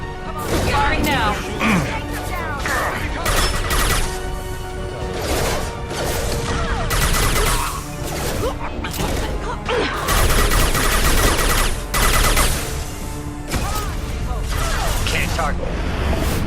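Rapid gunfire bursts from Mass Effect 2 combat crackle and crash near and loud, layered over dense game music, impacts and explosions, with character voices talking throughout.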